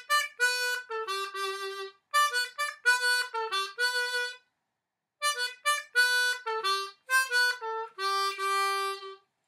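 Harmonica in C playing the catchy instrumental break of a pop song, a run of short clear reedy notes in phrases with brief gaps, alone and close.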